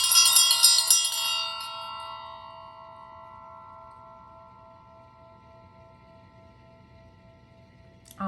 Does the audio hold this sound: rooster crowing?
no